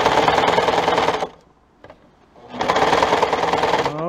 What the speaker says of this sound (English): I may just do it with the serger so you can see how it will look with the serger